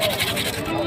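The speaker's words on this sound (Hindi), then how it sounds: "हाँ एक और बड़ा बकरा दिखाओ।" A goat bleating at a Rajasthan goat market in Tonk, a loud wavering cry held close for under a second against crowd noise.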